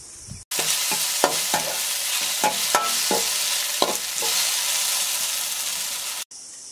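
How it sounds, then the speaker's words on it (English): Ridge gourd cooks in a pan for a fish curry, giving a steady loud sizzle with several sharp stirring scrapes and clinks over about six seconds. "Remember to put on the lid when you're cooking the Ridge Gourd so that it softens faster."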